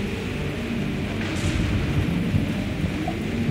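Thunderstorm ambience in the video game Mass Effect 3: loud, steady rumbling rain and thunder noise that fills the whole stretch with no pauses.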